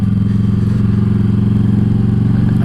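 A Harley-Davidson Street 500 motorcycle with Progressive suspension rolls through a car park, its engine thumping in a loud, steady, close rhythmic idle without any talk.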